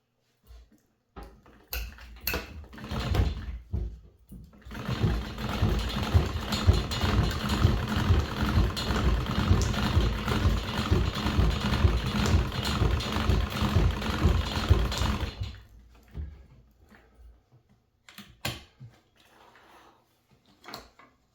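A New Home 672 treadle sewing machine stitches through three layers of fabric, running with a rapid mechanical clatter for about ten seconds, with scattered clicks and knocks of the mechanism before and after.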